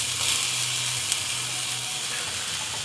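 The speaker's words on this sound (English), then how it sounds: "Just to saute it to pull some of that moisture out." Sliced jalapeño sautéing in a hot pan gives a steady, close sizzling hiss with faint crackles, heard alone without any talk.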